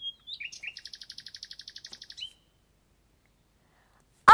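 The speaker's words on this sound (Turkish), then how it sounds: "benim duyduğum o güzel kuş cıvıltılarını siz de duyacak mısınız?" A single bird sings a rapid trill of repeated chirps for about two seconds, clear and close, followed by near silence.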